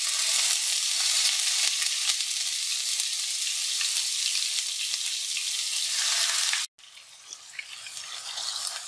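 Onion paste frying in hot oil gives a loud, steady close sizzle that cuts out abruptly, then resumes more quietly with faint stirring.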